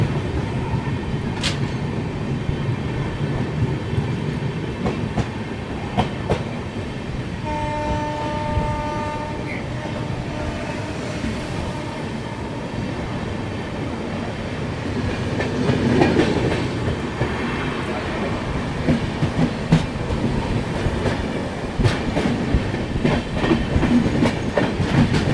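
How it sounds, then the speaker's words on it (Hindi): The Kamrup Express, running from Dibrugarh to Howrah, rumbles along the rails for a long stretch with steady clickety-clack and a brief horn blast partway through, heard from on board, with occasional faint voices in the background. "ये है कामरूप एक्सप्रेस जो डिब्रूगढ़ से हावड़ा के वे में चलती है।"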